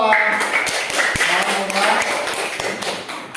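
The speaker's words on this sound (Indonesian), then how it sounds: "tepuk tangan dulu untuk kelompok 2" A class of fifth-grade pupils claps for a group in a primary school classroom, a dense patter of hands that runs steadily for a few seconds while voices carry over it.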